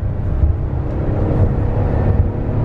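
Inside a 2020 Hyundai Palisade SUV merging onto a highway, a steady low engine and road drone builds slightly as the vehicle accelerates, with no talk.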